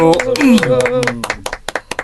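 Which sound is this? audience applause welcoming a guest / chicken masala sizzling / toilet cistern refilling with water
audience applause welcoming a guest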